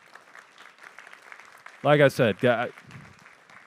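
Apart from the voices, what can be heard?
audience applause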